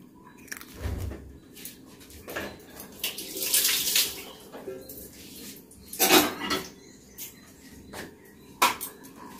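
Minced chicken kofta mixture being worked together with egg white in a bowl, close wet squelching and mashing with scattered clinks of utensil against the bowl, uneven bursts of messy mixing and no talking.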